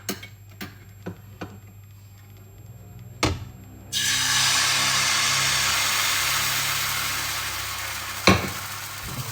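Dosa batter hits a hot pan and breaks into a steady, loud sizzle that holds for several seconds, after a few sharp ticks and knocks, with one more clunk near the end.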